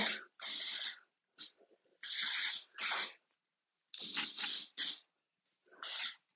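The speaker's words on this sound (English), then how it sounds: "This is the Not Your Mother's Clean Freak Refreshing Dry Shampoo." Not Your Mother's Clean Freak Refreshing dry shampoo sprayed onto hair in about eight short, loud, hissing aerosol bursts separated by brief silences.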